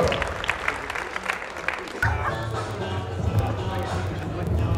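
Audience applause for boxers at a discoboxing event in Amsterdam, steady clapping from a crowd that swells after two seconds, with an announcer's voice over a PA heard throughout.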